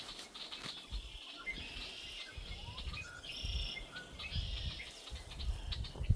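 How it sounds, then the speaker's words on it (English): Red-winged blackbirds call outdoors on a cold, icy day in a series of repeated shrill trills and whistles at moderate distance, over a low patter and rustling. "You hear the red-winged blackbirds."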